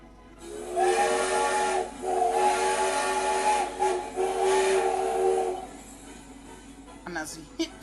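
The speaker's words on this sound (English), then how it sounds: "He blew his whistle so loudly." A cartoon tank engine blows a steam whistle loudly, several long shrill blasts with breaks between them and a steam hiss underneath, then quieter rumbling and a brief clatter.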